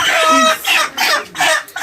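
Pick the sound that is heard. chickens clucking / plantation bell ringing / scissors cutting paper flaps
chickens clucking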